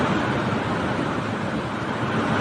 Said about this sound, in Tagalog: Sobra ng hangin at ulan.